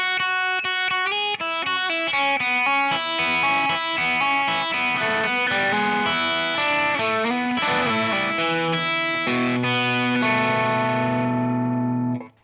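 Distorted electric guitar plays the last four bars of a blues instrumental: a loud, continuous run of bent notes and chordal licks that ends on a sustained chord and cuts off.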